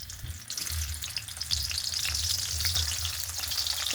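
Onions sizzling and frying steadily in hot oil in a wok, a continuous close crackle with occasional stirring scrapes, no voices.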